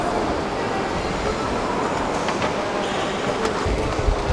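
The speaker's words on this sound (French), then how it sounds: "I've got on the metro" Rumbling, rattling noise of a Lisbon metro train in motion, steady and fairly loud, with a few faint squeals and clanks near the end.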